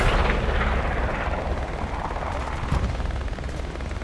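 Gunfire in the Hell Let Loose video game during a night battle on Foy: dense, continuous rumbling shots and distant barrage filling the air, loud and steady with no clear breaks.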